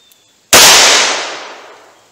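A single sharp .38 Special revolver shot from a 4-inch barrel, fired at close range beside a chronograph at an indoor-style range, bursting loud and then ringing out in a long decaying tail.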